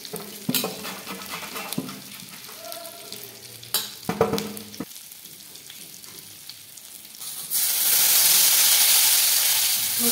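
Okra is fried in oil in a hot kadhai. Early light stirring and clanks give way to a loud, steady sizzle and hiss, with no talk.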